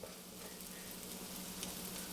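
Steady, close sizzling of gluten-free pancake batter frying in a hot pan, a constant crackle with no voices.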